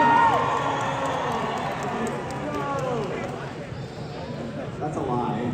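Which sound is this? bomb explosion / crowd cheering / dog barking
crowd cheering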